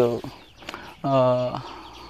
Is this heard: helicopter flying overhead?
no